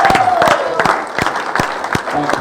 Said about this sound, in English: We've got to give Wilbur a big round of applause